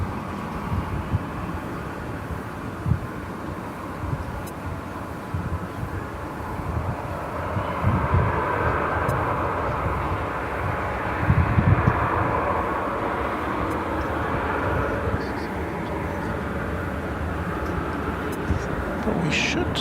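A jet airliner taxiing at DFW Airport at night, a broad distant engine rumble and whine that swells and fades slowly, with a person talking over it.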